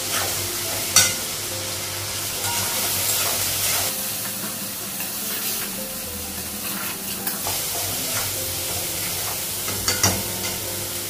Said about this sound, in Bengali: হলুদ দিবেন, আদা বাটা দিন, ভেজে নেব একটু মশলাটা।